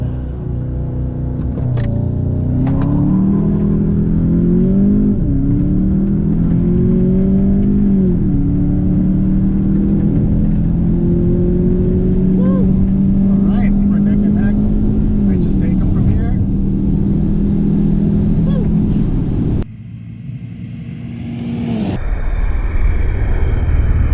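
A Ford Mustang 2.3L HPP with a 10-speed and a VW Jetta GLI DSG accelerating side by side in a race: a loud engine drone that climbs through several gear changes, heard from inside a car. It cuts off abruptly near the end as the sound shifts.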